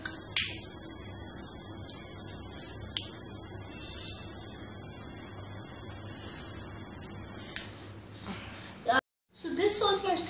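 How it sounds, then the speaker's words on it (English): An LPG gas detector's continuous high-pitched electronic alarm buzzes steadily for several seconds after sensing butane, then cuts off, followed by faint talking. "this sensor will detect and give out a sound alarm."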